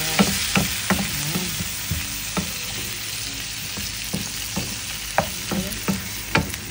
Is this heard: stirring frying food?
yes